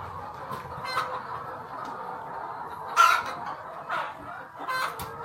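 Hens in a laying poultry house near Yaoundé cluck in short, scattered calls over a steady low hum of the shed, a few louder squawks standing out close by.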